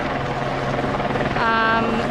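A police helicopter flying overhead above St James's Park and Horse Guards Parade in Whitehall, London, a steady rotor drone with a brief rising whine, heard under nearby voices.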